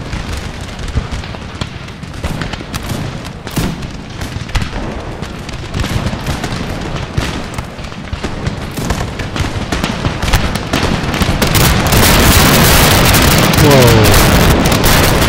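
Musket volleys in Empire Total War crackle as dense, noisy bursts throughout, swelling louder and thicker in the last few seconds, with a man's brief exclamation over the gunfire.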